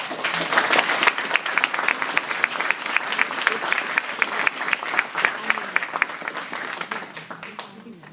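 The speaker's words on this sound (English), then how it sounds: "Give them all a big round of applause." An audience at a US Navy retirement ceremony breaks into a long round of applause, loud sustained clapping with distinct individual claps standing out, gradually thinning toward the end.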